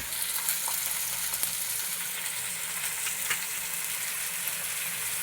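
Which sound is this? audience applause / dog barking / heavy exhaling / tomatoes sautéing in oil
tomatoes sautéing in oil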